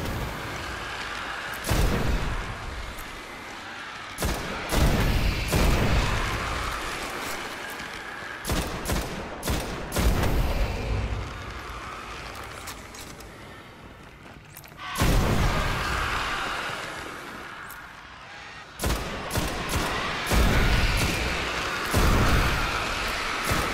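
Primary-weapon gunfire in the Destiny video game comes in loud, sustained bursts of rapid shots, broken by brief pauses and scattered single reports.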